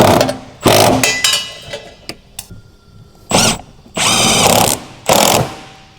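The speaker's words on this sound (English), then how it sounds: "Use a 12mm deep socket with a long extension and tighten the bolts." A 12mm deep socket on a long extension tightens the coilover bolts on a T6 coilover for a Honda Civic FK. Short bursts of harsh metallic ratcheting come in several separate runs, close and loud, with brief pauses between them.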